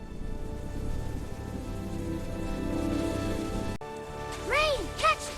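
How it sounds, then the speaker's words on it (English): Rain comes down in a steady soft patter for several seconds, then gives way to bright musical swooping tones and chimes. "rain coming down."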